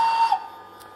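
A Märklin BR 38 gauge 1 model steam locomotive sounds its whistle, one sustained tonal blast that cuts off abruptly, leaving a faint hum and a small click.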